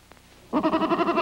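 A single close goat bleat, wavering and nasal, starting abruptly after a brief quiet moment.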